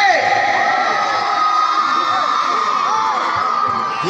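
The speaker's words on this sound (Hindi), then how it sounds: "ये आपकी चीख ये आपकी ताली आपकी सीटी मेरे लिए ऑक्सीजन का काम" A concert crowd at a North Bengal musical night with Mumbai actors screams, whistles and cheers in a steady, dense roar, with shrill whistles rising above the noise throughout.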